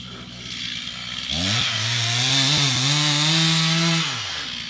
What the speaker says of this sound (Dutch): De mannen zijn nog steeds aan het zagen.